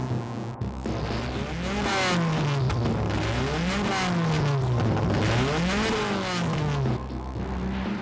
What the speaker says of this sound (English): Dory Dory takes it for a spin.